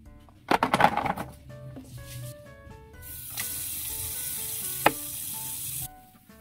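Galunggong (round scad) fish frying in oil alongside eggplant and mustard greens. Utensils clatter at first, then a steady bright sizzle builds and holds, broken once by a sharp clack near the end.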